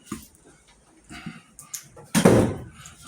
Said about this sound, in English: Come on, step in, close the door.